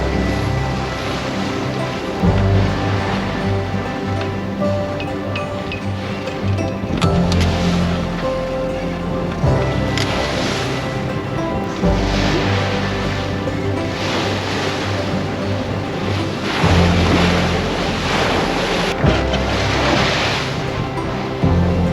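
A sailboat beats into ocean swell, with waves washing and slapping steadily against the hull under continuous wind rush, and periodic heavier surges as the bow meets each swell.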